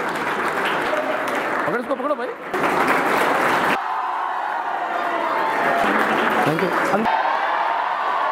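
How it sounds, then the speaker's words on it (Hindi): An audience at a New Year school event gives loud applause and cheers for twins, with continuous clapping broken by short stretches where people speak over it. "दोनों के जोर ताली आपके लिए,"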